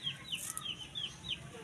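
Four-month-old cockerels cluck in a series of short, fairly faint calls against a soft background hiss.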